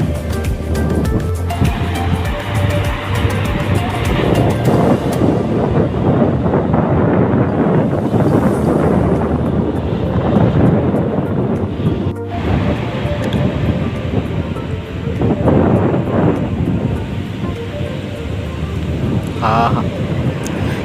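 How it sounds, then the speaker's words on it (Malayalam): Sea waves break steadily on Kollam beach in the Kerala sunset hour, mixed with strong wind buffeting the microphone in a continuous, loud wash with no clear gaps. "നല്ല തിരമാല അടിക്കുന്നുണ്ട് കേട്ടോ"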